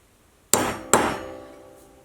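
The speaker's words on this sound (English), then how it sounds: "I'll add some punch marks in the center of each end" Two sharp metallic hammer strikes on a center punch mark a metal part for a large homemade tap wrench, each clang ringing out and slowly decaying, close and clear with no talk.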